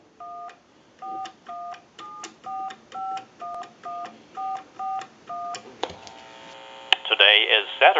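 Touch-tone beeps dial out a call on a converted antique Cracraft Leich wooden wall telephone, about ten quick evenly spaced tones in a row, then connection noise and a voice on the line.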